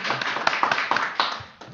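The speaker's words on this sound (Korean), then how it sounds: "박수 한번 모셔주겠습니다" A brief burst of scattered applause from a small group of participants in a lecture session, a handful of distinct claps close by, thinning out within two seconds.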